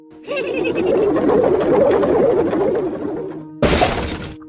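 The Goblin Barrel card from the mobile game Clash Royale plays a crashing, shattering smash that builds over a few seconds, then ends in a sharp final burst.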